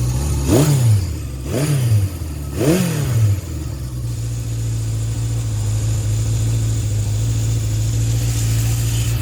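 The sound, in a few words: motorcycle engine idling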